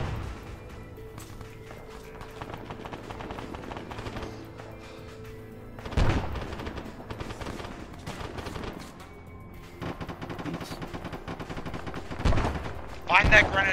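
Arma 3 combat gunfire during a squad battle near a main road, with scattered shots and bursts mixed into constant background activity, a louder cluster around the middle and near the end, while players talk over it.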